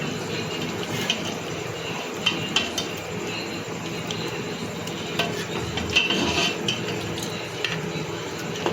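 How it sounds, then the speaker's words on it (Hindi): A spoon stirs aloo gosht curry, a potato and meat dish, in a cooking pot, giving scattered light metallic clinks and scrapes every second or so over a steady background hum. "अब हम इसे एक बार मिक्स कर लेंगे और एक अलग बर्तन के अंदर निकाल लेंगे।"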